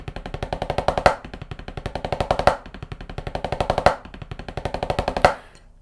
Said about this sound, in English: a 15-stroke roll has the name because you hit the drum 15 times while you play.